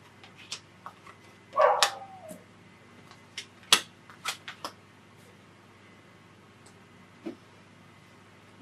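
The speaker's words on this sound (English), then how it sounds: "Maybe somebody's dog is loose out there" A dog outside gives a few short, distant barks, scattered irregularly among faint clicks and taps in an otherwise quiet room.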